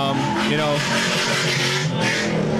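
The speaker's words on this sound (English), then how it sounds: "listen to wonderful V8s at the same time" Several V8 car engines at a racetrack event roar together in a dense, continuous revving wash with tire noise, while a voice talks over them.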